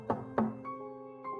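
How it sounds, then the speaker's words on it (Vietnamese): Knocking on a door at night, two sharp hollow knocks in quick succession, close and clear, followed by faint tonal ringing. "Tiếng gõ cửa vang lên."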